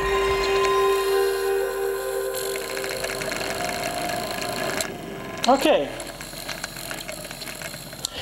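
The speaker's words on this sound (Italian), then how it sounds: "Questo è il motor gripping, quindi il motore va assolutamente lubrificato." Worn disc motor of an original PlayStation SCPH-1000 console under repair, making a close mechanical whir with a brief gripping, grinding burst midway. A voice says a single word.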